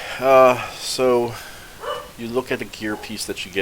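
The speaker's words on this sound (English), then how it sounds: "That's a dog in the background." A dog barks in the background, several loud, drawn-out woofs in the first half followed by shorter yips, while someone talks over and between them.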